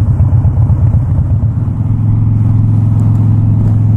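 Harley-Davidson Dyna Wide Glide motorcycle engine idling close by, a loud, steady low rumbling throb with an uneven pulse, holding constant throughout.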